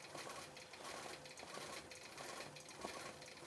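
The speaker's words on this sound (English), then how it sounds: "I love the fact that you can have that machine do zigzag or blanket stitch" A quilting machine stitching steadily in a continuous mechanical whir, faint and even throughout.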